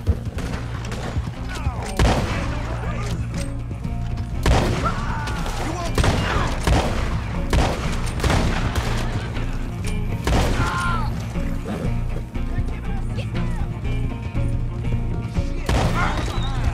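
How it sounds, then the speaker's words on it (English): Gunfire in the online western game Red Dead Online, with repeated sharp shots and bursts scattered across the stretch amid game sounds and background music, loud and close, with a voice speaking at times. "I've been shooting for about a minute."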